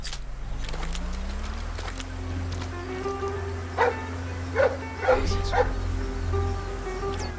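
Dog barks in the stealth game Splinter Cell Blacklist, a few sharp yaps spaced out in the second half, mid-distance over a steady low game drone.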